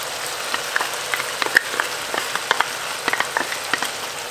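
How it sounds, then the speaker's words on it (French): Garlic and onion frying alongside sausages in a pot, a steady close crackling sizzle dotted with sharp pops and spits, with no voices. "on va ajouter l'ail et l'oignon du coup qu'on a émincé, et on va le faire dorer aussi à son tour"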